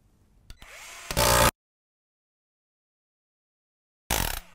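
A Milwaukee M12 cordless palm nailer drives a 10D nail in two loud, close bursts of rapid hammering, the first lasting about a second after a brief lead-in, then a long silence before the second burst.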